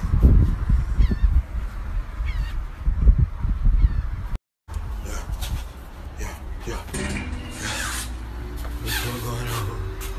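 Geese honk repeatedly nearby outdoors, loud bursts standing out over rustling and handling noise, followed by a steadier mix of background sound.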